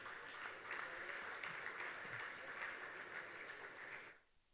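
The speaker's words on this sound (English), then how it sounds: "Ladies and gentlemen, a round of applause." Audience applause at an awards ceremony, a steady wash of many hands clapping that holds evenly and then cuts off abruptly near the end.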